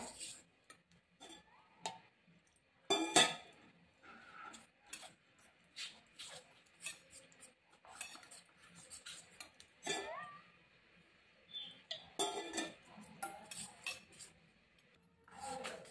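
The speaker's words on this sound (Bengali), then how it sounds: "ভালো করে ফেটিয়ে নেব যাতে কোনো লাম্পস না থাকে" A spoon beats egg chop batter paste in a bowl, quiet irregular clinks and scrapes in uneven bursts with pauses between.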